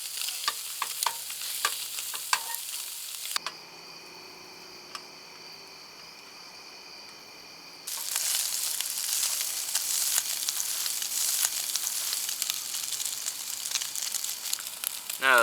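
Spam frying on a camp stove burner, a steady close hiss and sizzle that drops away briefly into a quieter hum before returning loud and constant, with a few clicks early on.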